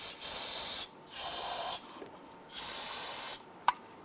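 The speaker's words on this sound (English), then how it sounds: "I'm going to use some spray solvent and kind of clean these out." Spray solvent cleaner blasted into bracket mounting holes on a 1994-2004 Ford Mustang during an AC bypass pulley install: three loud, steady hissing bursts separated by brief pauses, with a small click near the end.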